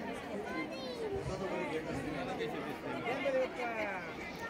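Evening crowd at the Shri Gajanan Maharaj temple, a dense, continuous babble of many voices chattering close by with no single voice standing out.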